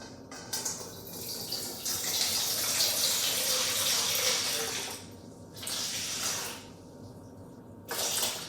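Water streams steadily into a bowl, 375 grams for bread dough, for several seconds, pausing briefly twice, a close, rushing pour with no talking.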